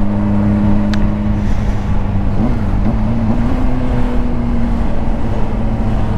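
A small car engine drives at full power in rush-hour traffic, a loud, steady droning hum with a slight pitch rise as it pulls, heard close and alone throughout.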